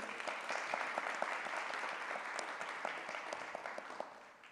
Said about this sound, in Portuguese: pedir uma salva de palmas para eles